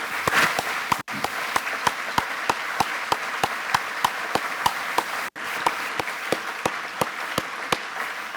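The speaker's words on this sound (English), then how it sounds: "stand up where you are right now so we can applaud for you" Audience applause at an education awards ceremony, a steady, full wash of clapping from many hands that runs throughout, with sharp individual claps standing out close by.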